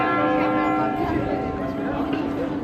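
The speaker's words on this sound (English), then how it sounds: "there's the 1 o'clock bells" Church bells in an old town in Strasbourg ring out one o'clock, rich sustained tones layered over one another at moderate distance, with street murmur and voices underneath.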